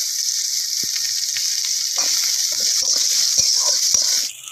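Chillies and onion fry in oil with black cumin in a pan, a steady loud sizzle broken by small crackles and pops, with an occasional faint stirring scrape.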